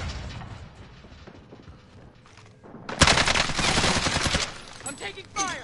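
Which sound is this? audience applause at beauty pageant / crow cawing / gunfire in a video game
gunfire in a video game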